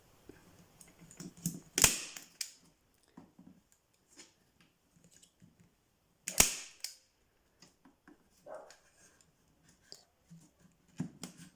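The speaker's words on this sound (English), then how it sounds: "Take your staple gun and put a couple of staples in either side" A staple gun fires sharp, isolated snaps into the wooden back of a photo frame being upcycled into a jewellery holder, two loud shots several seconds apart amid quieter handling clicks and taps.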